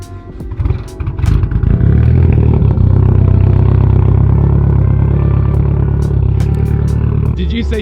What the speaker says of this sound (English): I'm driving the Evo 10 home tonight.